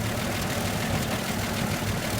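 A new generator engine idles at a high speed with a constant, loud, even drone and a rough low rumble, holding steady throughout without pause.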